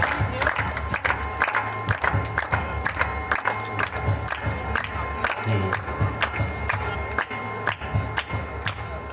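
A crowd applauds at a village sports-team prize distribution ceremony: sustained clapping with a rhythmic pulse and some cheering, fairly loud and steady.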